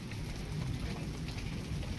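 Soft, steady patter of light rain with a low background rumble, no voices.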